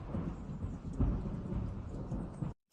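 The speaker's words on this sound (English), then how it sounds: "you mean like the thunder rolling thing?" A rolling thunder sound effect: a continuous, broad, low rumble that swells and churns for about two and a half seconds, then cuts off abruptly into silence.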